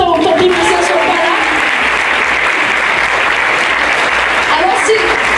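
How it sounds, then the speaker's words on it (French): A show audience gives a loud, sustained round of applause for a performing troupe, dense clapping close by, with faint voices mixed into the crowd noise. "On peut les applaudir tant pis pour ça, sur le palais."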